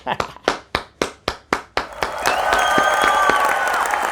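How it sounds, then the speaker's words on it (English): Eight sharp, evenly spaced claps from a single nearby person lead into a broader round of applause from a group, with a voice briefly audible over the clapping. "let's give you a round of applause"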